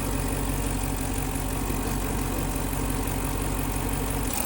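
Car engine idling steadily in an automotive shop with the EVAP purge valve commanded open, a continuous mid-low hum with a slight uneven roughness and no talking.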